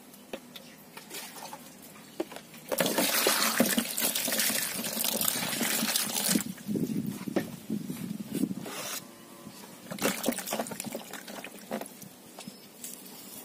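Water pours and splashes outdoors as crab and other ingredients are washed, coming in two loud gushing bursts with quieter trickling and handling noises between them.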